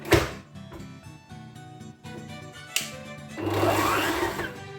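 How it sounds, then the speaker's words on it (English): An electric mixer beats sugar and butter together, a steady motor whir with clattering, rising to a louder, busier churn toward the end; no one speaks. "into my mixer with that sugar and the butter"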